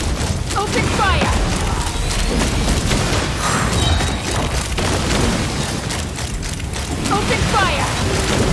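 Gunfire and explosions in a Genshin Impact battle, a chaotic barrage of booms, thuds and clattering mechanical bursts at a loud, steady level, with short voice calls mixed in.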